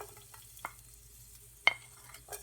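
Chopped garlic and ginger frying in oil for an Indo-Chinese chicken Manchurian sauce, a soft steady sizzle with a few sharp stirring scrapes, close and fairly quiet.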